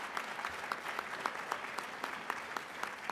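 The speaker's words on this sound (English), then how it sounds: "I would like a round of applause" Applause rises from guests at an awards dinner, with steady clapping from the room and a few sharper, distinct claps standing out in a regular pattern throughout.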